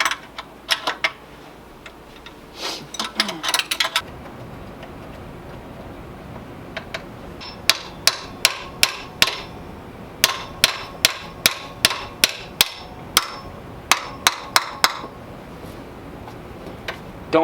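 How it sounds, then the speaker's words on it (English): A hammer strikes pit bike parts in a workshop, first a few scattered taps, then a long run of sharp, evenly spaced metallic hits, close and loud. "Don't hit stuff with a hammer,"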